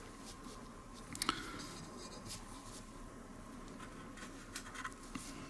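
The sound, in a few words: drawing with a slightly moistened tip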